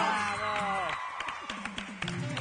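A studio audience cheers and claps for Agustín Casanova, and the loud applause and whoops mix with a strong tonal voice that calls out over the crowd.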